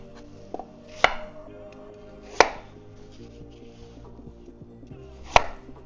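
Three sharp knife chops through an apple on a cutting board, spaced apart, with faint kitchen clatter between them and no talking.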